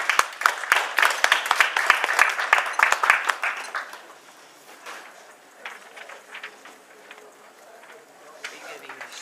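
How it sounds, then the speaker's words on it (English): Audience at a college debate claps in a lively burst of scattered, close handclaps that fade out after a few seconds, leaving quiet room murmur and faint chatter. "Let's give him a round of applause."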